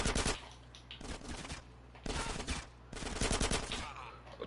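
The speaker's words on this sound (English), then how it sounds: "Get some suppressing fire in there!" Gunfire in Grand Theft Auto San Andreas comes in repeated rapid bursts of automatic shots, loud and close, separated by brief lulls, with faint voices mixed in.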